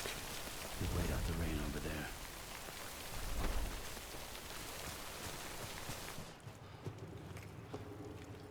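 Heavy rain pours steadily in the Death Stranding video game, a dense hiss on surfaces with a couple of low rumbling swells, then a softer patter near the end; a voice talks briefly underneath.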